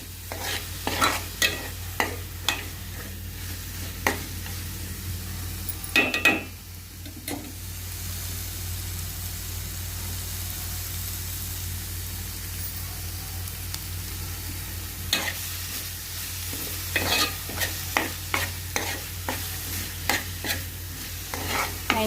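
Crushed ginger and garlic fry in a pan as a spoon stirs them, giving repeated sharp scraping clacks in bursts over a low steady sizzle, with a quieter stretch in the middle; close by, no voices.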